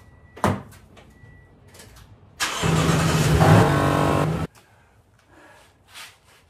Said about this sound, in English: I'm gonna start the truck